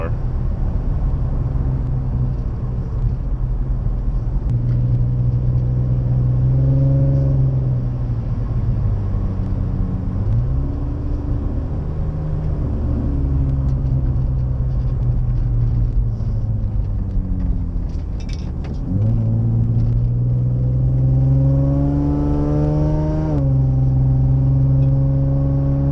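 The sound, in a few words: Nissan 350Z VQ35 engine running with exhaust leak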